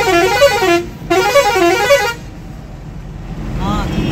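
Heavy road traffic with a bus or vehicle horn blaring in two long sustained blasts, loud and close, then a quieter stretch of traffic rumble with another honk starting at the end.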